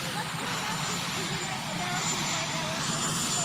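Marine One presidential helicopter engine and rotors, a steady loud turbine roar with a constant high whine, continuous broadband noise throughout.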